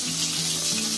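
Fish fries in oil over a medium gas flame, giving a loud, dense, continuous sizzle with no voices.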